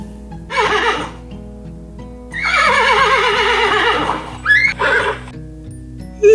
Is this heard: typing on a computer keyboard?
no